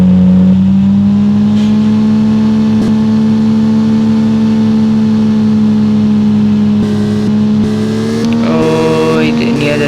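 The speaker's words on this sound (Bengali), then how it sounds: "এটা আমরা drive to repair shop, let's drive করে নিয়ে যাই।" A car driving to a repair shop in a car dealership video game, with a loud, steady engine drone that climbs slightly in pitch toward the end, alone without talking.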